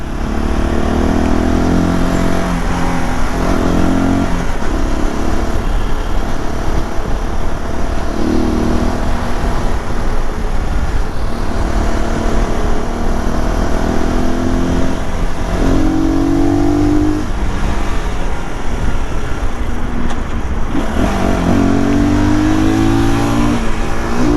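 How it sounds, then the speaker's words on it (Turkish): An RX3i Evo motorcycle rides through evening road traffic, its engine a loud, close, continuous drone that repeatedly rises and falls with throttle changes, layered over steady road and wind noise. "Maşallah maşallah ne trafik varmış be."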